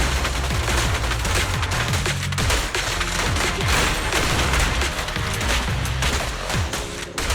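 Sustained heavy gunfire from the video game Zenless Zone Zero, rapid bursts of shots and booms packed densely together, loud and continuous with almost no pause.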